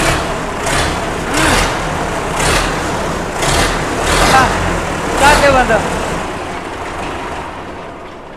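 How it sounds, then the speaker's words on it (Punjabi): A tractor engine runs with rhythmic chugging pulses and a deep rumble while someone talks briefly over it. "ਇਹ ਟਰੈਕਟਰ ਦਾ ਦਿਖਾਤਾ ਸਾਨੂੰ ਇਹਦੀ ਸਟਾਰਟਿੰਗ ਤਾਂ ਦਿਖਾ ਦਿਓ"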